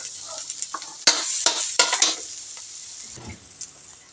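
Ginger sizzles and is stirred in melted butter in a pan, with sharp crackling bursts and scraping strokes of the spoon up close, then a quieter tail as the frying settles.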